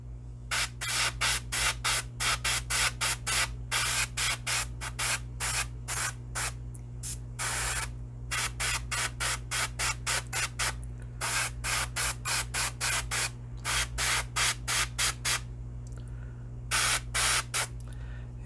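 Rapid bursts of airbrush spray hiss from a paint airbrush fed by a compressor set at about 28 psi, short repeated pulses with brief gaps throughout, over a steady low compressor hum.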